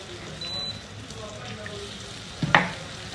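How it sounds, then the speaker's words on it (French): Sfenj dough fries in hot oil with a steady, close crackling hiss, and a brief splash and bubbling burst near the end as more dough drops in. "je le mets dans l'huile."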